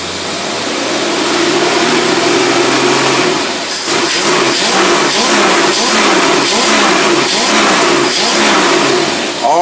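A car engine running in neutral on a test setup, a loud steady mid-range hum throughout that shifts into a rougher pulsing drone partway through, with no talk over it.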